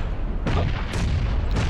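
Grenade explosions in the PUBG battle royale video game, three loud booming blasts in quick succession over about two seconds, each with a sharp onset and a rumbling tail, with no talk.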